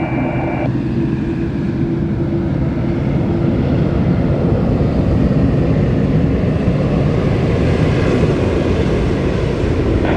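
An aircraft landing at Sydney Airport sounds as a loud, steady broadband roar with a low engine rumble that holds across the whole stretch, no voices over it.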